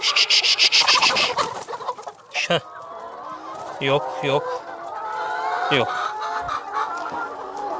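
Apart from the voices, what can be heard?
chickens clucking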